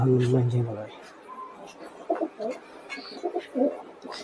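Pigeons coo in soft, repeated bursts, close by, with a low tonal hum at the start and murmuring voices underneath.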